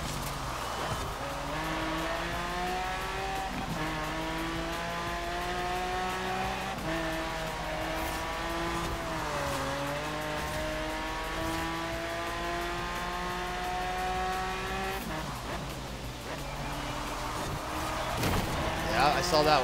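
Race car in Forza Horizon 4 driving hard, its engine revving up and down through gear changes with some tire squeal, loud and steady throughout while a person talks over it.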